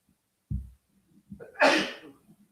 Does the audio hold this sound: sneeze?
yes